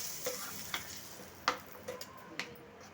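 A spoon stirs peanut chutney just after a hot tempering of asafoetida and dried red chillies is poured over it, a faint soft sizzle under a few light clicks and scrapes against the bowl.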